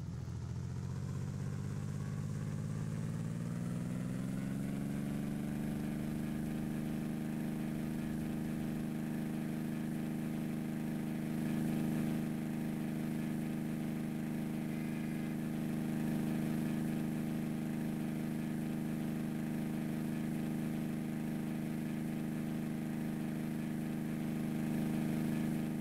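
Single-propeller Extra 300S aerobatic plane in the Prepar3D flight simulator, its engine throttling up from idle: a steady drone climbs in pitch over the first few seconds, then holds at a loud, even roar for the rest of the clip.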